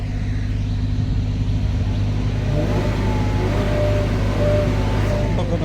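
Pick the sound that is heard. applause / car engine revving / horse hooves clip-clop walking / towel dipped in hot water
car engine revving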